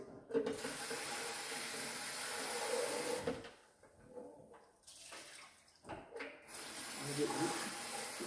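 Water splashes and runs as a Delonghi EVO coffee machine's water reservoir is emptied and rinsed at a sink, a close rushing flow that breaks off twice briefly, with handling knocks between pours.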